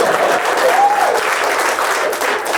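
Comedy show audience clapping in a steady, dense burst of applause, loud and close, with a faint voice rising briefly over the crowd.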